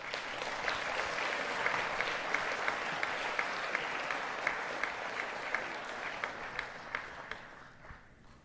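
Audience at an athletics awards ceremony applauding an honoured athletic director, steady dense clapping from a large crowd filling the room, sustained for several seconds before tapering off at the end.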